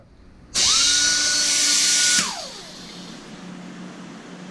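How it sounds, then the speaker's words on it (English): A power body saw cuts into a motorcycle frame, a loud close high whine that starts abruptly, holds steady for under two seconds, then winds down with falling pitch into quiet. "I just take that body saw and I just fucking cut an 1/8 inch"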